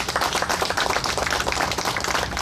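Dense audience clapping for honored guests at a gathering, a close, steady patter of many hands through the short stretch with no voices over it.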